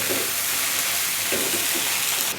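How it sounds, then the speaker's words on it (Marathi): Sliced onions sizzle and fry in hot oil in a pan for a spicy mutton curry, a steady loud hiss with a few soft stirring scrapes and no talking. "कांदा सगळा टाकलेला आहे आता याला आपण गोल्डन कलर येईपर्यंत फ्राय करून घ्यायचं आहे"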